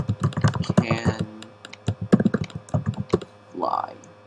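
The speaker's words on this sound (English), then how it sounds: "It seems to record me typing like that." Typing on a computer keyboard while setting up a Minecraft survival world gives quick bursts of clacking keystrokes, close and fairly loud, with brief pauses between runs.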